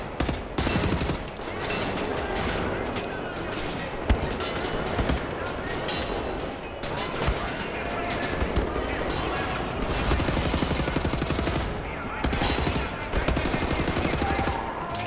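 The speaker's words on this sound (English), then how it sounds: "Time to shoot some Nazis." Dense, rapid gunfire from shooting enemies in Wolfenstein: The New Order, with continuous bursts and loud shots packed close together and barely pausing across the whole stretch.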